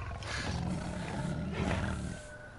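Big cat, a tamed sabretooth, roaring in a beast-riding video game, with a loud, close rumbling growl that swells twice and fades, heard on its own.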